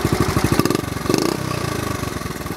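A 1970 Honda Trail 70 CT70 motorcycle engine runs close by with a loud, rapid, chugging idle, briefly rising in pitch before settling back into an even putter.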